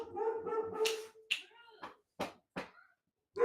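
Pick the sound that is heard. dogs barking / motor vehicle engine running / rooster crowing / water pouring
dogs barking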